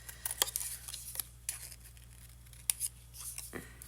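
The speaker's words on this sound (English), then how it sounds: "you can get really close with these snips, which is why they're total must-have tools" Craft snips cutting paper for a card-making project, a series of sharp, close snipping clicks in irregular bursts against a quiet background.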